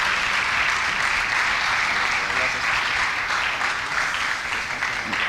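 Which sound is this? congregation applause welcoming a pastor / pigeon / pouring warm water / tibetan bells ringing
congregation applause welcoming a pastor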